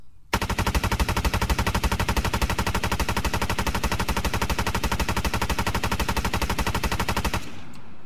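A machine gun in the video game Arma 3 Apex fires one long, unbroken burst for about seven seconds, loud and evenly rapid, then cuts off abruptly.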